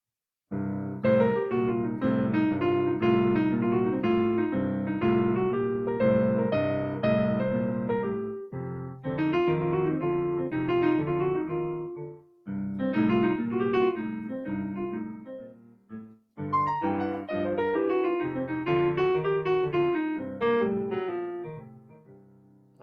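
A solo instrument plays a flowing, improvised melodic line in phrases with brief pauses, bluesy and unaccompanied, up close.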